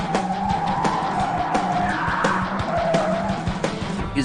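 A battered, smoking old car skids through a sharp turn onto a dusty side street during a police chase, tires squealing against a loud, steady engine roar, with repeated clicks and knocks running through it.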